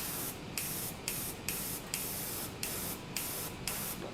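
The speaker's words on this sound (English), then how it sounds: "I'm not spraying much of the ink right now" Repeated hissing bursts of an airbrush spraying Gundam Marker ink, each about half a second long with brief gaps between, steady and close, with no voices.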